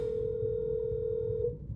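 An outgoing phone call placed from a computer rings through its speaker as a steady, single-pitched electronic tone held for about a second and a half before cutting off.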